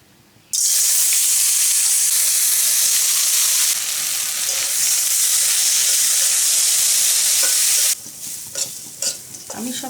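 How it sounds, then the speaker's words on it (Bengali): Washed masoor lentils hit hot mustard oil in a wok, bursting into a loud, steady sizzle that runs for several seconds with stirring, then drops off sharply near the end with faint clatter. "তেল গরম হয়ে আসছে, এখন আমি ডালগুলো ভেজে নেব"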